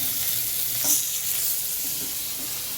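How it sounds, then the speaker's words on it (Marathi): Fish frying in a pan gives a continuous, even hiss of sizzling oil with faint stirring, close up and steady, with no voices. "Fish fry."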